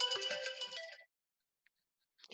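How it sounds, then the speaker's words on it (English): A mobile phone rings with a bright melodic ringtone for about a second, close and clear, then stops into silence broken by faint small clicks. "Sorry, I have to turn my phone off."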